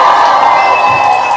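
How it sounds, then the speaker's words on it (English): A crowd cheers and applauds at a live event, a loud, dense and continuous wash of shouts and clapping, with no single voice standing out. "huge round of applause."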